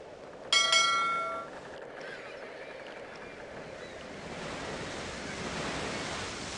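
Wind and ocean current in the Carmen Sandiego time-travel game: a steady hiss of surf and wind that swells slightly toward the end, with a brief tonal chime near the start.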